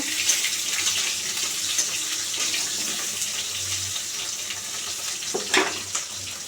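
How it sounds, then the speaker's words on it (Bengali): Pieces of pointed gourd fry in hot oil in a pan as they brown, giving a steady, close sizzling hiss that runs on without a break. "সেই তেলেই আমি আবার পটলগুলো দিয়ে দেবো। পটলগুলো একটু লাল লাল ভেজে নেব।"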